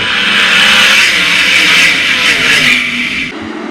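All Star sprint cars race at full throttle around Attica Raceway Park during a heat race, a loud, dense engine roar sustained throughout that eases off slightly near the end.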